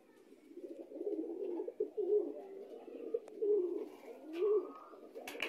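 Pigeons coo in a loft, giving soft, low, repeated rolling calls that rise and fall in waves. They sound close and fairly quiet, with no talking.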